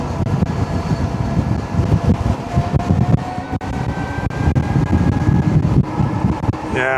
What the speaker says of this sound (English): Man, that wind's bad.